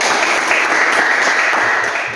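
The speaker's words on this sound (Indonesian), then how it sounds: "Ya, tepuk tangan dulu." A class claps for a student presentation in a classroom, with dense, steady applause filling the room at full, close volume and no break for the whole stretch.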